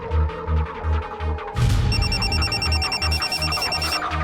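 A telephone rings in a Crime Patrol crime drama scene, first as a throbbing low buzz pulsing in a steady rhythm, then joined by a bright repeating electronic ringtone, loud and clear with no voices.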